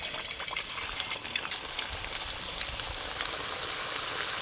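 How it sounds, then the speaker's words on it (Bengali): Marinated chicken pieces for chilli chicken frying in hot white oil in a karahi, a continuous bubbling sizzle with scattered crackles, fairly close and steady, no voices. "এবার চিলি চিকেনের জন্য চিকেনগুলো ভাজা করব, তার জন্য কড়াতে সাদা তেল দেব।"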